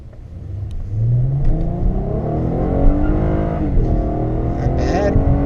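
A 2016 Honda Accord V6 Touring with front-wheel drive accelerates hard in sport mode, its engine note climbing steadily through the revs, loud and close from inside the car.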